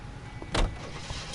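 A car in the video game LA Noire, heard as a single close thud like a car door shutting amid a steady low rumble, brief and moderately loud, with no voices.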